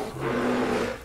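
A bear and a puma fighting in Red Dead Redemption 2, with a loud, close, sustained snarling roar that swells and then fades, and no talking.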